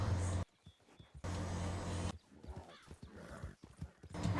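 A horse gives a clear neigh amid rhythmic clip-clopping hooves, with brief gaps of near silence between louder stretches and faint voices in the background.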